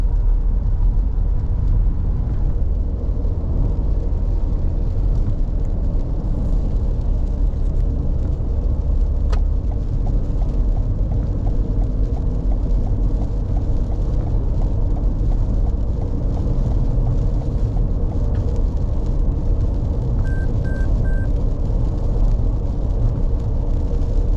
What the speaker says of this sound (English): Look at all of the diesel trucks coming south.